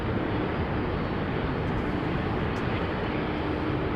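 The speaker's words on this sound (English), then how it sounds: "Transavia taking Cheaters Lane, leaving the country" A Transavia airliner taking off at Amsterdam Schiphol makes a constant, dense jet rumble with no break, fairly loud and even across the whole stretch, with no talking.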